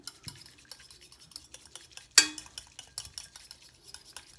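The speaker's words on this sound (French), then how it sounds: "Émulsionner très doucement quand même, hein, parce que l'huile de ricin sulfatée, mine de rien, ça mousse." Hot, very liquid face cleanser of donkey milk, cinnamon and sulfated castor oil being gently stirred in a bowl, a steady run of soft scraping and clinking strokes with one sharper knock midway, close and alone.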